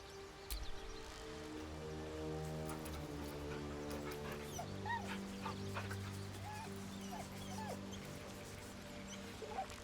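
Dog whimpering in the Baldur's Gate 3 video game, soft high whines flickering over a sustained musical score that stays steady and fairly quiet throughout.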